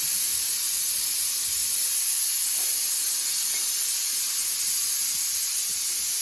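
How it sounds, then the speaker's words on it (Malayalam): A pressure cooker cooking ghee rice vents a steady, loud, broad hiss of escaping steam, unbroken and close throughout with no voices. "ഇപ്പം അടിക്കും കുക്കർ വിസിലിട്ടാ"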